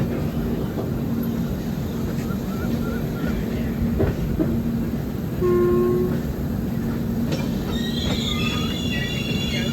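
A Bengaluru–Howrah express train rumbles steadily and loud throughout, with brief tonal squeals and a short horn-like note midway, and faint higher whines near the end.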